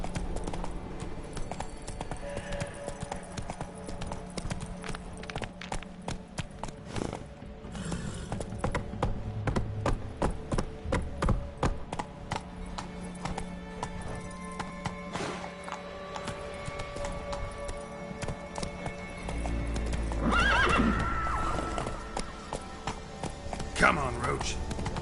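A horse's hooves clip-clop in a steady walking rhythm in The Witcher 3 video game, with a short whinny near the end and game speech over the hoofbeats.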